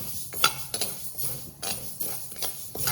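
Mustard seeds and fenugreek dry-roasting in a kadhai make a run of light, crisp clinks and scrapes, irregular and close, with short bright ticks every half second or so against a soft background hiss.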